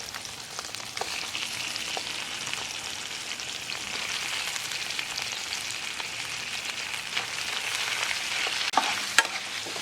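Shrimp being stirred in a pan with green Scotch bonnet pesto, a continuous close sizzle and frying crackle with occasional scraping of the utensil, steady throughout and with no talking.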